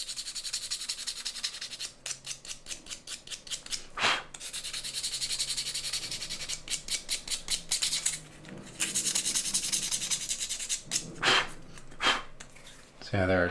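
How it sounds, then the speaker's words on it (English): Sandpaper scrubs the metal face of a pair of pliers in quick back-and-forth strokes, close and fairly loud. Rhythmic runs of rubbing are broken by short pauses and a few louder scrapes. "So yeah, there, just sanding that down."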